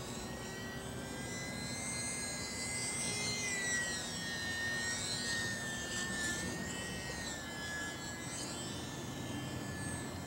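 A small UMX Sbach RC model airplane flies continuously overhead for about ten seconds, its electric motor giving a steady high whine that rises and falls in pitch as it maneuvers, with no talking.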